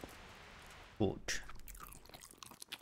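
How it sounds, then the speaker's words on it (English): In the video game Kingdom Come: Deliverance, after a quiet stretch, a wet, crunchy bite is followed by a few chewing and smacking sounds, close and fairly loud. "Disgusting eating sound."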